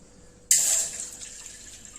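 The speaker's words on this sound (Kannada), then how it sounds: "ಒಂದ್ ಗ್ಲಾಸ್ ನೀರು ಹಾಕೊಳ್ಳಿ." After a brief quiet moment, water suddenly starts splashing and pouring, loud at first and then settling into a steady gurgling stream.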